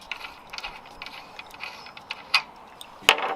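Mechanical ratcheting and clicking as the travelling nut is worked off a Mercedes Vito W639 shock absorber, a run of small quiet ticks ending in a louder sharp click near the end, close by with no talk.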